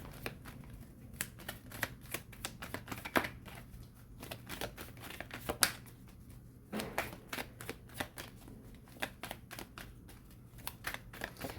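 Tarot cards riffled and shuffled in quick, crisp bursts, with snappy flicks and soft slides repeating steadily throughout, close and fairly quiet against a low background hum.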